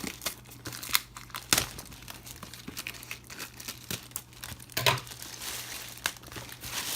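Packaging crinkles and rustles as a portable solar lamp kit is unboxed, with close, irregular plastic crackles and sharper tearing bursts throughout and no speech.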